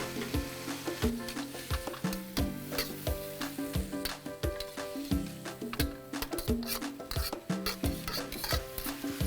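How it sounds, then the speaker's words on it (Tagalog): Garlic and ginger sauté in a pan with a busy, rhythmic scrape and clatter of a utensil against metal over a continuous sizzle, close and moderately loud. "Gisa na natin yung garlic at saka luya."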